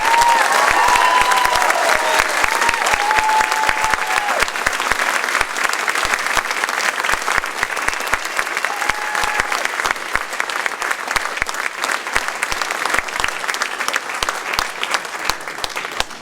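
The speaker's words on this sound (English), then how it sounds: "So please give him a big round of applause." Loud, sustained applause from a large audience at a school spring concert fills the room, steady clapping throughout with a faint voice briefly audible near the start.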